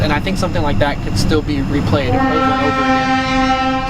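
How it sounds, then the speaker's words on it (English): A train passes in the background behind a residential building during a ghost hunt, its steady horn-like drone rising and holding strongly toward the end beneath continuous close talk. "excuse the train in the back"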